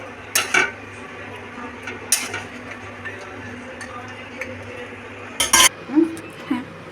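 Metal spoon scraping and clinking against a pan while fish curry with garam masala is stirred, a few brief sharp clatters spread over a low kitchen background hum, with a voice speaking softly at times.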